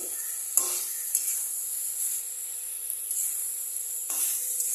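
Cauliflower and potato, boiled and then fried, are stirred in a pan with a steady hiss of sizzling oil. Several scraping stirs punctuate the sound, and no one speaks.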